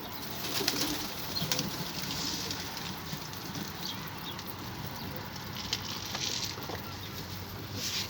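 A pigeon coos softly against a quiet background hiss, with a few faint scuffs and taps and no talking.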